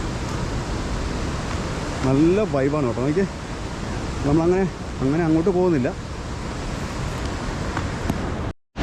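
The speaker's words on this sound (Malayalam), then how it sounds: "അതുകൊണ്ട് വെള്ളം ഒഴുകി പോകുന്നതാണ് കേട്ടോ" Water released from the Bhoothathankettu dam rushes and roars steadily in a broad, continuous wash heard from nearby, while a person talks over it in short stretches.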